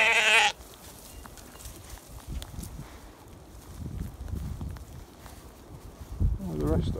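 Ewes bleat in a field on a farm, a loud close call at the start and another near the end, with quieter rustling and movement between.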